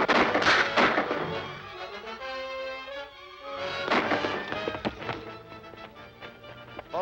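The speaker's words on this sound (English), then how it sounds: "Shooting at the Arabs that ambushed us." Gunfire in a 1942 film serial shootout with ambushing Arabs, several sharp shots and thuds scattered over music and action noise, fairly loud.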